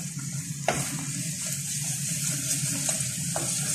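Mashed tomatoes go into a sizzling spice paste for Memoni beef curry khaowsay, with a sharp splash at the start followed by steady frying hiss and occasional scraping stirs of the pan.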